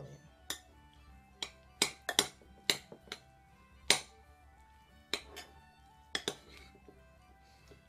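Utensil clinks and taps against a bowl while navy beans and seasoned vegetables are mixed into stuffed cabbage filling, a dozen sharp, irregular knocks spread over quiet room tone.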